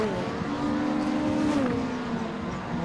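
Saloon race cars battle on a Scottish circuit, engines loud and close with a rising, revving pitch as one car passes another, a continuous roar with a slight shift mid-clip.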